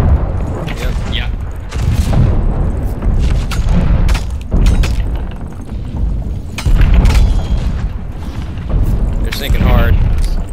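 Heavy booming ship cannon blasts in the game Sea of Thieves fire in bursts, deep and loud, with rumbling impacts between shots and voices talking over the chaos.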